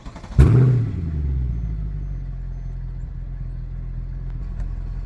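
A Mercedes E63 AMG sedan with a 6.2L V8 launches in race start mode, a sudden loud bark followed by a strong, sustained engine roar that settles into a steady rumble.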